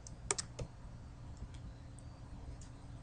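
A few quick, faint computer mouse clicks sound close together near the start, followed by soft scattered ticks over a quiet room background.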